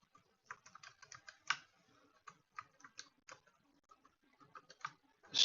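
Someone types a password on a computer keyboard in a quiet room. Soft, close key clicks come in uneven bursts, with a couple of heavier keystrokes standing out.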